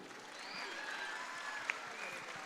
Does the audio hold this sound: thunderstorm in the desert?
no